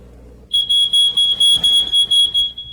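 A home smoke detector triggered by actual smoke during a test emits a loud, piercing electronic beeping in a steady rapid pulse, close and alone.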